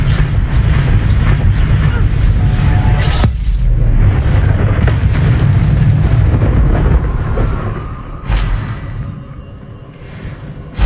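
A Confringo fire spell blasting in the Hogwarts Legacy video game: a loud, continuous roaring rumble with sharp impacts breaking through, fading briefly before another blast flares up near the end.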